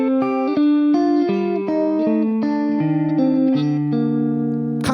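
Two-part melody finger independence exercise played together on a sustained, effect-processed instrument, upper and lower lines held in overlapping notes, loud and steady with no talking.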